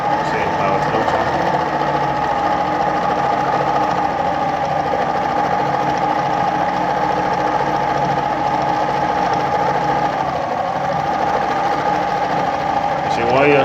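A Pfaff model 230 sewing machine stitches steadily with its needle set to the left, a continuous close whirring motor hum with fine rapid needle chatter running unbroken throughout.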